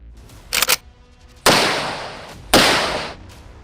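An AK-203 assault rifle fires in sharp, loud bursts: a quick double crack, then two longer rattling volleys of rapid shots a second apart, each ringing out and decaying.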